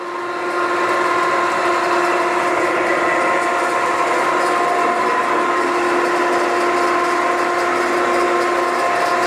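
An Okamoto ACCUGAR 124N hydraulic surface grinder running with its table traversing, giving a steady, loud mechanical whir and hum with a constant tonal whine that carries on without a break.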